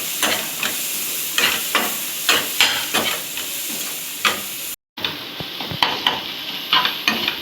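Eggs stirred into tomato masala frying in a pan, with a spatula scraping and tapping in regular strokes over a constant sizzle; close and loud, with a brief dropout midway, no talking.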